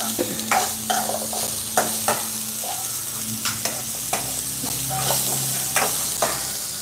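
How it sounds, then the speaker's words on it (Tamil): Onion sautés in a pan under a constant sizzle, broken by regular scraping and stirring strokes about every half second, close and clear with no talking. "அப்படியே வெங்காயத்தையும் போட்டு வதக்கிடலாம்."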